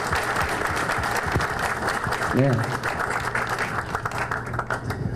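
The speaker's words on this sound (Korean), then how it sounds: "여러분 뜨거운 박수 보내주시기 바랍니다." Audience applause fills a hall at the launch ceremony for the YCY education and lifestyle journal, a steady dense clapping wash that runs the whole time, with a short voice rising briefly near the middle.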